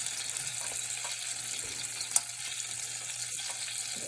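Onions sautéing in a hot pan give a steady, quiet broadband sizzle with faint crackles throughout, plus one brief sharp clink near the middle.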